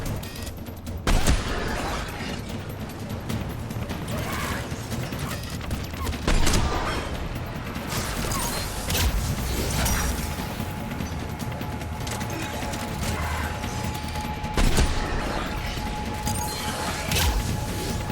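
Sustained gunfire in a Mass Effect 3 battle, dense rattling shots and impacts with several louder bangs rolling through an eighteen-second firefight, loud and close.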